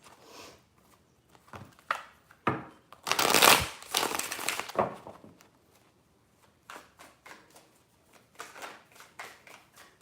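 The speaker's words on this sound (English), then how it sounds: "Three shuffles for Taurus" Tarot cards being shuffled by hand in several quick bursts of papery riffling and slapping, close and fairly loud, with brief quiet gaps in between.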